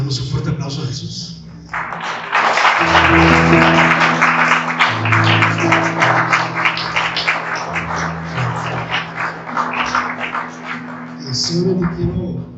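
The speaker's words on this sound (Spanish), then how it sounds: "Le damos un fuerte aplauso a Jesús." Congregation applause at an evangelical church service, a sustained, fairly loud patter of many hands clapping mixed with voices and low background tones, building after a short pause and fading toward the end.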